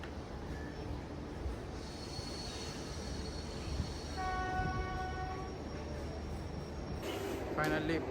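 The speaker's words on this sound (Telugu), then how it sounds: "ఫైనల్లీ పూరి ప్లాట్ఫామ్ 6కి మనం రీచ్ అయ్యాము ఈ మెమూ ట్రైన్లో కటక్ నుంచి." MEMU passenger train from Cuttack pulling into platform 6 at Puri station, with a rumbling run joined midway by a long sustained horn, then a sharp squeal near the end as it slows.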